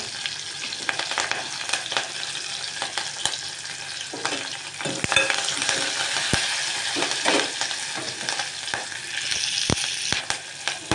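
Green chillies and curry leaves frying in hot oil in a pan, a loud, close, crackling sizzle with sharp pops and spatula scrapes as they are stirred.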